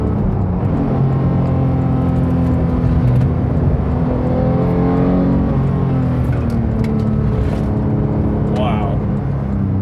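Manual Porsche 991.2 GT3 on the road, its engine a steady, close, continuous drone with rising and falling pitch as it accelerates, sustained loudly throughout.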